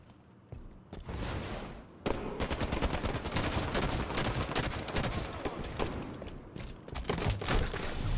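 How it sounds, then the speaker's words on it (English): Rapid bursts of automatic weapon fire from a Halo 5 multiplayer match, close and loud, with sustained volleys and a few sharp single shots layered over the game's background sound. "Get to cover! Hostile fire."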